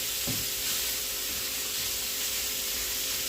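Ground beef sizzling in a hot pan, a steady broad hiss of frying fat with faint stirring, close and continuous with no talking.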